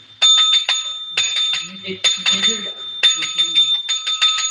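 A bicycle bell rings in repeated bright bursts, close and insistent, while voices talk quietly underneath.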